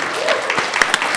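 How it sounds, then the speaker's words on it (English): An audience breaks into applause, a dense wash of clapping hands that is loud and steady through a brief moment. "let's all say a round of applause for Cymera"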